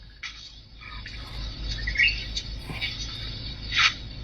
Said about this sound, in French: On entend même le chant des oiseaux.